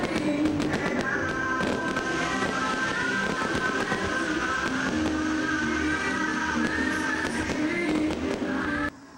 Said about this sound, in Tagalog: Mihayag na ang kalangitan sa Tagum City tungod sa nagkadaiyang nindot nga color ug disenyo sa fireworks